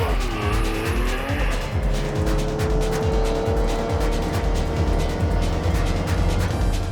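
A Noble M400 sports car lapping a race track, its engine loud and close with steady rising and falling revs while the tires squeal through corners, with no one talking.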